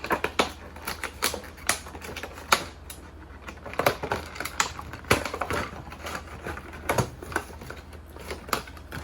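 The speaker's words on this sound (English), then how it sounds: "I'll let you hear the package open" Cardboard package for a cheap battery-powered gravel vacuum being opened, with irregular crinkling, tearing and tapping clicks, close and fairly quiet, with no voices.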